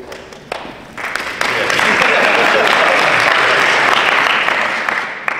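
Audience applause at an a cappella holiday concert at Eastern Michigan University, a dense steady wash of many hands clapping that swells after a second and holds loud before easing off slightly at the end.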